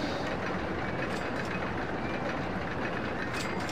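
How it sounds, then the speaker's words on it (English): A mine train roller coaster in the RollerCoaster Tycoon game runs steadily along its track, a constant dense rumble and rattle with no pauses. "Another poo-choo train."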